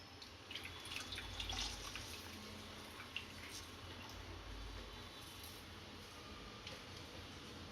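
Quiet, steady trickling of water squeezed from soaked bread slices, with occasional soft drips and splashes throughout.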